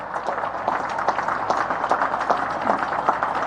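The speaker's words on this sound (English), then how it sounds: "midshipmen, stand up and clap for them" Naval Academy midshipmen clapping at a commencement ceremony, a sustained crowd applause with individual claps popping out steadily throughout.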